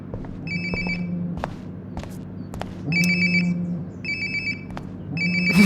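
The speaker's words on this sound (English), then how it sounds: "Sounds like my phone is definitely nearby." In the video game Life is Strange: Before the Storm, a phone rings in four short repeated trill bursts, moderately loud, over a low ambient hum and a few footsteps.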